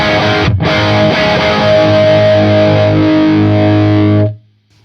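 Distorted electric guitar through a Marshall JCM2000 amp, a loud sustained chord with a brief break near the start, ringing steadily before cutting off abruptly.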